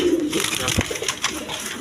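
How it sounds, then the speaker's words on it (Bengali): A pair of cream-coloured racing pigeons cooing at a bird market, a short low throaty coo near the start followed by a quick burst, close by amid a busy background with people talking. "এখানে এক পেয়ার রেশার কবুতর আছে"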